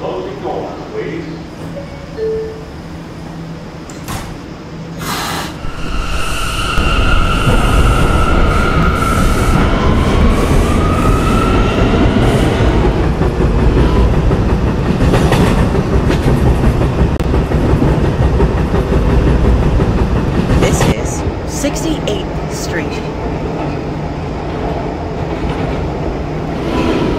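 An R179 subway train on the B line in the Roblox game PTA Subway runs with a loud, steady rolling rumble and faint wheel squeal, while an onboard announcement voice is heard near the start.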